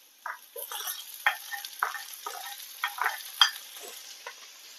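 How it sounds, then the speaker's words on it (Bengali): Chopped tomatoes hit a pan of ginger paste and onion and fry lightly, giving close, rhythmic sizzling scrapes from repeated stirring over a soft background hiss. "এগুলোকে আমি খুব বেশি ভাজবো না, একটু হালকা করে ভাজবো।"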